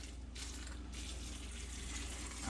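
Water pours steadily over beans for canning, a continuous rushing gush from close by with no talk.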